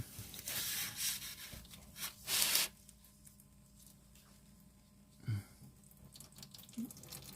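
Engine oil draining from a 2012 Subaru Outback 3.6R into a drain pan, a soft steady trickle with a couple of brief louder splashes and rustles early on, no talking.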